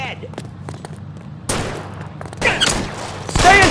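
Video game gunfire in an L.A. Noire shootout: scattered shots and bursts that build into louder, denser volleys toward the end, mixed with voices.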